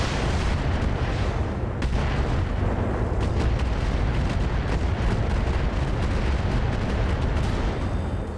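Tandem AX weapons firing in the RogueTech BattleTech game, a continuous barrage of heavy booms, cracks and explosions that keeps going for over eight seconds, loud and dense with no speech.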